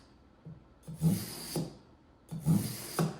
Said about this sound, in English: And I just pull the knife back a couple times.